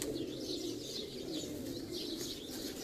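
Pigeons on a rooftop during a one-day pigeon-flying tournament coo softly and steadily at a distance, with a faint chirp now and then over low, constant outdoor background noise and no talking.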